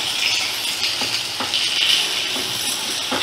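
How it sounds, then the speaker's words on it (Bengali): Sliced onion fries on a medium flame, a bright continuous sizzle with a few soft stirring scrapes, close and fairly loud with no voices. "স্লাইস করা পেঁয়াজটা দিয়ে দিলাম। দিয়ে মিডিয়াম ফ্লেমে রেখেই আমি একটু লাল লাল করে ভেজে নেব।"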